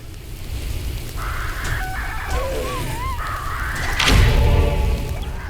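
A hostile bird in a survival video game squawks and warbles in short wavering calls over a steady low rumble, with a loud crackling burst near the end and no talk over it.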